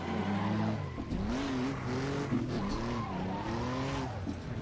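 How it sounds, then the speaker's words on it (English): A 1934 Maserati 8CM Grand Prix car in the Assetto Corsa racing game, its engine droning loud and close, with pitch swooping up and down through gear changes over the full length. "I'm going to be driving the 1934 Maserati 8CM here"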